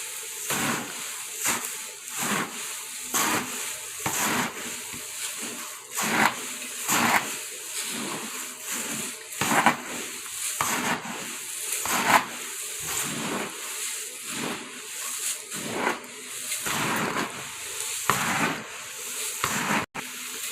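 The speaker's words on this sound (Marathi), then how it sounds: "आणि चिवडा आता व्यवस्थित कालवून घ्यायचा तेलामध्ये म्हणजे मसाले फ्राय केलेल्या तेलामध्ये" Puffed rice chivda being mixed and tossed in oil fried with spices for a spicy Diwali snack, a long run of repeated dry rustling, scraping strokes at a fairly even rhythm, close and moderately loud, with no talk.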